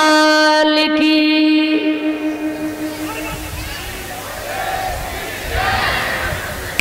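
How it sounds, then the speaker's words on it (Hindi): A devotional bhajan crowd breaks into loud clapping and shouts a unison 'jai' chant to Banke Bihari Lal, after a sustained voice or tone fades into a rush of massed noise. "जोरदार ताली के साथ बोलिए बाके बिहारी लाल की"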